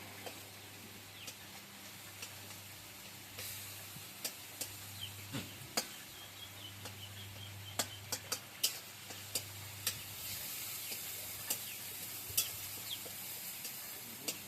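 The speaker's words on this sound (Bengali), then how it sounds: "এবার খুন্তি দিয়ে ভালো করে টমেটোটা নেড়ে দেবো" Metal spatula stirring softened tomato in a pan, a series of sharp scraping clicks and taps over a steady low sizzle and a background hum, close and moderately loud, with no talking.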